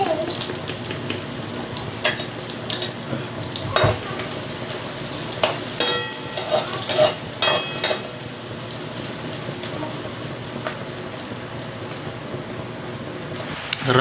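Onion fries in a pan over a gas flame turned to full, with a continuous sizzle and a cluster of stirring clatters midway.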